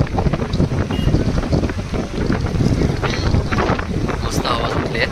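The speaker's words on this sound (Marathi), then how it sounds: "मस्त हवा सुटली आहे." Strong wind buffets the microphone on a boat ride toward Gorai beach, a loud continuous rumbling gust with a person talking over it.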